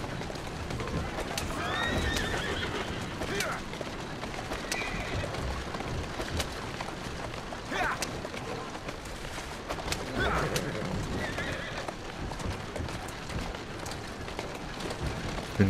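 Horses whinny and neigh repeatedly in Assassin's Creed Syndicate, with the clip-clop of hooves running beneath them in a busy Victorian London street soundscape along the Thames.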